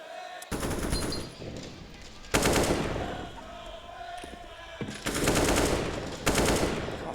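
Automatic rifle fire in Counter-Strike on the Inferno map at a professional match comes in loud, rapid bursts, with quieter gaps of ambient game sound between them.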